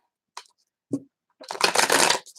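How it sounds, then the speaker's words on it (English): Tarot cards shuffled by hand: a couple of short flicks, then a denser riffling burst of about a second, close and fairly soft. "Let's give them a real good shuffle."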